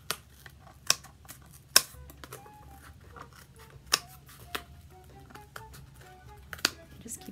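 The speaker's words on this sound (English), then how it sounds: "you just take your scissors in there, and you want to cut little slits to the sides." Scissors cut small slits around a hole in paper at a tabletop craft, giving sharp, close snips at irregular intervals with quiet rustling between them.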